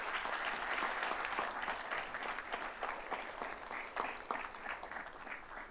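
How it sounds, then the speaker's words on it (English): An audience at a business school awards ceremony at Lincoln Center gives a sustained round of applause, a steady, fairly distant wash of many clapping hands that holds evenly for several seconds. "Let's give them all another round of applause."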